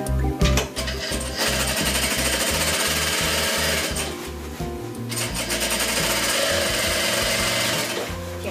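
A sewing machine stitches the front and back pieces of baby pants, running loud and close with a fast, even mechanical hammering that pauses briefly midway and then resumes.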